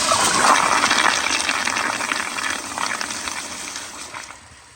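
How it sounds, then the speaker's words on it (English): A 1999 Kohler Highcrest toilet flushing at raised water pressure: a loud, close rush of water that gushes strongly, then slowly tapers off as the bowl drains over several seconds. "I just turned the pressure back up a little more, so let's give it another flush"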